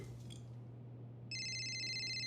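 An electronic phone ringtone starts partway through, a steady multi-tone ring sounding clearly over a low background hum, with no talking.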